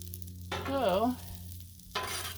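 Gnocchi sizzling on a hot Blackstone flat-top griddle, bursts of frying hiss coming and going with a short spoken word in between, fairly close but not loud.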